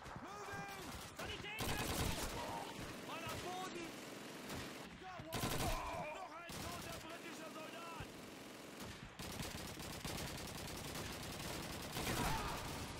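Repeated gunfire bursts and volleys from Call of Duty 2, loud and dense, mixed with in-game battle noise and shouting voices throughout.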